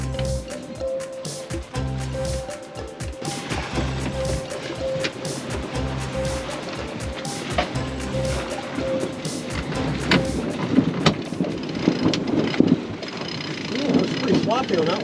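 Wind and choppy waves around a sailboat tacking on a bay, a constant rushing, splashing roar with water slaps and creaks, louder toward the end, and voices faintly beneath.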